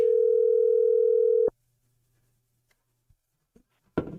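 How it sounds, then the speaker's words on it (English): Telephone call tone, a steady loud dial-type tone lasting about a second and a half on a call that went to voicemail, then cuts to near silence with a few faint clicks and a brief burst of noise at the end. "Your call has been forwarded to voice. It went straight to voicemail."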